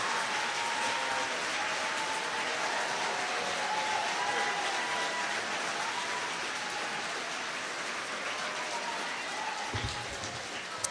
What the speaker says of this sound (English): let's give your teachers a very warm round of applause